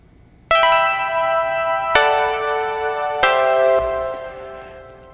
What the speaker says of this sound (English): that sound comes from the Massive plugin